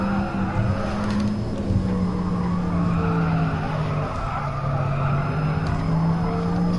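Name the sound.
car tires skidding under hard braking in video game GT Sport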